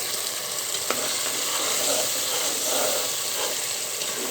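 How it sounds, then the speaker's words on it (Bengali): Taro cooks in a pan for a rohu fish curry, giving a steady hissing sizzle with a single utensil tap and faint stirring movements beneath it. "এখন আমি আবার নেড়ে ছেড়ে দিচ্ছি।"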